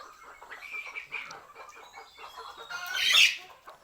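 Several chickens clucking softly and irregularly at close range while eating cabbage, with a louder squawk near the end and no talking.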